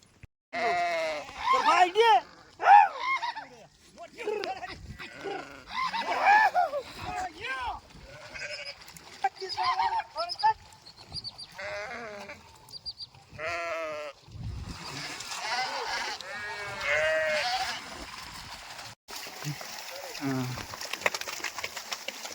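A flock of sheep at a large lake, brought there for washing, bleats repeatedly at close to middle distance while someone talks over and between the calls.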